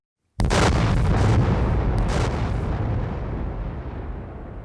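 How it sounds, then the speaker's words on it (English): A single loud dynamite blast erupts abruptly after near silence, a close, heavy boom followed by a long rumbling decay with no voices. "Ooh, what an explosion!"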